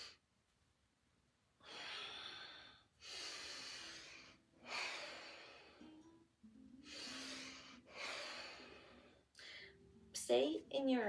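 Deep rhythmic breaths during quick yoga squats, about five long alternating inhales and exhales with short pauses between them, close and clear, ending with a brief burst of voice.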